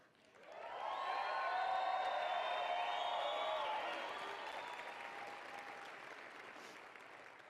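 An audience applauds, a swelling wash of clapping that rises quickly, holds full and steady, then gradually thins out, with faint voices and a whistle-like tone mixed in.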